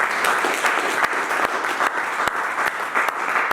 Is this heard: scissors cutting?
no